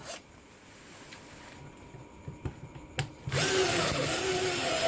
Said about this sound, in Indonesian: Karena plastiknya tebal, maka kita harus ngebornya bolak-balik